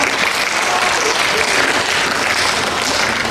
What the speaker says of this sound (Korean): 여러분 뜨거운 박수 좀 보내주세요.